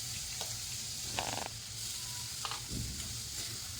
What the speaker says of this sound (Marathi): याच्यामध्ये आता मी टाकते आहे 4 मोठे कांदे